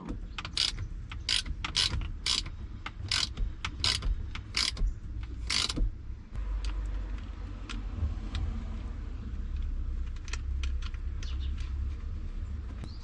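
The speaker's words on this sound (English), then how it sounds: "I gotta use a stupid uh, wrench to tighten it" A wrench ratchets in a steady run of sharp metallic clicks, tightening the positive terminal of a deep-cycle/cranking battery on/off switch, close and fairly loud at first, then thinning to scattered faint clicks over a low background hum.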